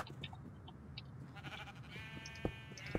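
Sheep bleating inside a blocky sandbox video game, a few short bleats over a steady background hum, fairly quiet and mid-distance, with a couple of sharper game clicks near the end.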